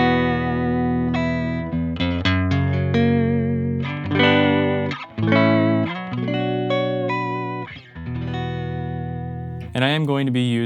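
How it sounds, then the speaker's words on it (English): A Fender Jaguar electric guitar on its neck pickup plays a melodic run of sustained, processed notes with pitch bends from the whammy bar, ending in a brief noisy swell. "Today I've got a Fender Jaguar."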